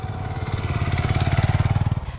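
A trainee's motorcycle at a police training facility, its engine chugging in a rapid, pulsing rhythm as the clutch is eased, close and fairly loud, swelling slightly then fading at the end.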